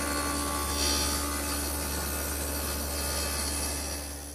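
A table saw with a stacked dado blade cuts wood pieces pushed through with a miter gauge: a steady, loud motor hum and whine with a rough grinding cut layered over it, easing off near the end.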